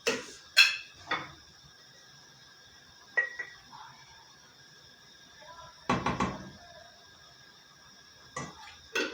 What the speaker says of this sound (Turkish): Tavamı atayım hemen.